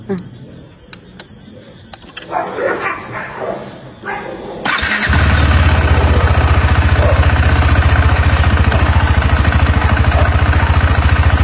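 A KTM 390 Adventure motorcycle, fitted with LED fog lights, fires up after a few seconds of quiet handling noises, then settles into a loud, steady idle that throbs evenly and close by for the rest of the clip.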